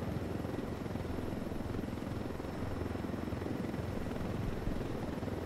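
Steady, continuous helicopter rotor drone from a small helicopter in the video game Ghost Recon Wildlands, loud and close, holding an even thrumming roar throughout with no talking.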